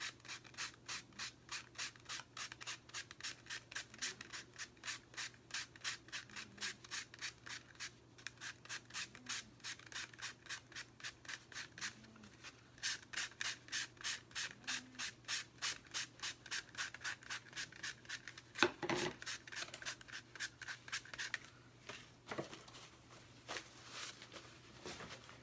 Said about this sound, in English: Sandpaper, and we're just going to lightly scuff this up again.